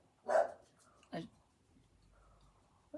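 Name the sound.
dog barking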